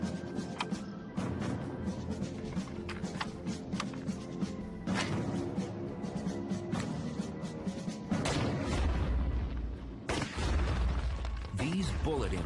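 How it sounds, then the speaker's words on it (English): Bullets striking artificial asteroid stand-in targets at a shooting range, a series of sharp booming impacts and bursts spread through the clip, loud and under continuous talking. "These bullet impacts are comparable to the collisions in the asteroid belt."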